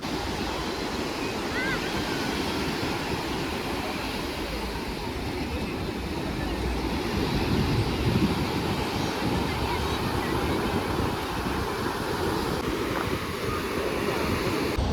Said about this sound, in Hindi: बहुत ही अच्छी लहरें बह रही है।